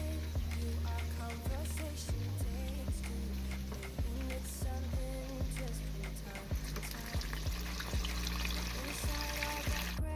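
Pork chops frying in a fryer of hot grease, a steady close crackle and sizzle with scattered pops and bubbling throughout.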